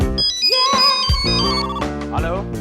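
A phone rings with a bright, melodic electronic ringtone in a Hindi TV comedy scene, loud and close, playing its tune continuously for under three seconds.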